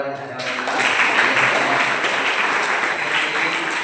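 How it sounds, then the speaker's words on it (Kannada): Audience applause at a formal thank-you address, a dense, steady burst of clapping from a crowd that swells in after a brief start and holds loud throughout, with no talking over it. "ನೀವೆಲ್ಲರಿಗೂ ಸಹ ಜೋರ ಚಪ್ಪಾಳೆ"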